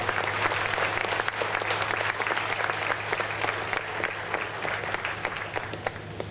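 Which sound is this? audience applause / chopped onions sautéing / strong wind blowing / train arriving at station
audience applause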